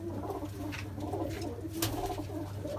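Bazi pigeons in a loft give soft, low cooing over a constant background hum, a steady murmur with no clear breaks and no talking.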